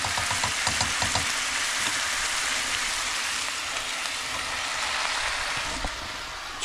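Cutlets sizzle and fry in a pan in a small van kitchen, a steady broadband hiss with faint crackles throughout, fairly close and alone without talk.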